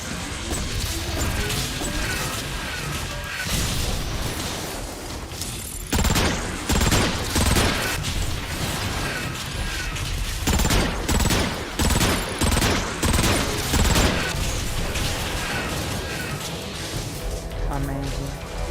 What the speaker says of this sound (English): This thing is shooting at me.